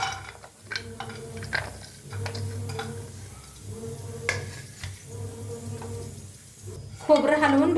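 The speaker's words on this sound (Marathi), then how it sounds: "खोबरं हलवून भाजून घेऊया।" Dried coconut being stirred and dry-roasted in a pan for egg masala curry, repeated soft scraping and tapping of a spatula against the pan in an uneven rhythm, close and fairly quiet, with a voice speaking over it near the end.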